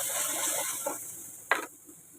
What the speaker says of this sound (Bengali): দিয়ে দিলাম হলুদ এবার এটা ভালো করে কষানো হোক